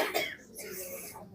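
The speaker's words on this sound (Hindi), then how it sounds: "पहले खांस लो सब अच्छे से" A short burst of coughing and throat clearing from people gathered just before a meditation session, a rough, close cough or two at moderate volume in a quiet room.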